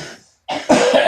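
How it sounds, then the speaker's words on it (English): A person coughing twice in quick succession, close and loud, after a brief faint throat sound and short silence. "you guys are gonna just have to get through our coughing"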